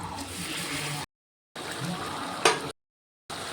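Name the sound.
hot water poured into a pan of cooked chicken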